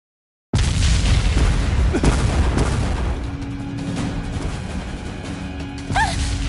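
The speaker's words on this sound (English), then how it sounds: "The bombing's about to begin." Bombing explosions in Valkyria Revolution: a loud booming blast starts abruptly and rumbles on, with further heavy impacts and crashing debris at close range.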